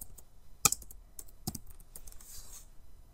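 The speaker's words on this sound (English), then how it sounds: "if I was to type blue in here" Computer keyboard typing while entering data into an Excel spreadsheet: a few sharp, close key clicks spread over a few seconds, one especially loud, heard alone in a quiet room.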